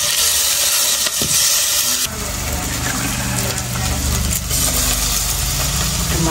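Mushy chopped onion frying in boiling oil for a tribal-style dry mutton curry gives a loud, steady hiss that runs through the whole stretch and thickens about two seconds in.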